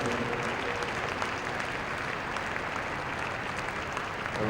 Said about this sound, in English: Just keep the applause rippling for a minute more